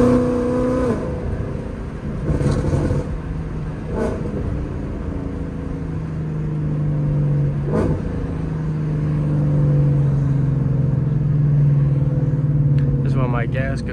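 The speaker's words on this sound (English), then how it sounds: "Let's go some downshifts." A Ford Mustang GT with a tuned engine on a late-night drive, its engine revving and settling through downshifts in a loud, sustained drone heard from inside the car.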